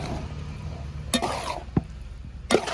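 A spoon works through beef and jackfruit biryani in a pot, with a low simmer underneath and a few sharp scraping clinks against the metal.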